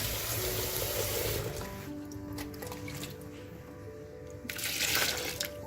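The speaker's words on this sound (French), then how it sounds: "Donc, je mets de l'eau à mi-hauteur pour faciliter que ça broie plus facilement." Water poured into a blender jar to help grind a traditional Mayotte massala marinade with pepper, a close liquid splashing and trickling that fades midway, then returns briefly louder near the end.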